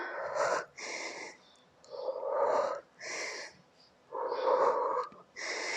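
Heavy, rhythmic breathing from someone doing an intense HIIT cardio workout, with loud, close, wheezy inhales and exhales alternating steadily with no talk over them.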